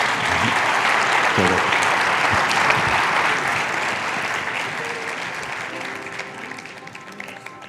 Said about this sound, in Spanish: merecen los dos una ronda de aplausos